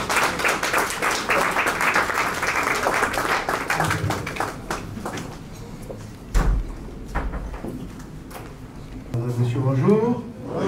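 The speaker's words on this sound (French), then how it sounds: "Applaudissons, s'il vous plaît." Wedding guests in a hotel wedding hall in Pointe-Noire, Congo, applauding steadily for several seconds, the clapping thinning into scattered claps while a voice speaks near the end.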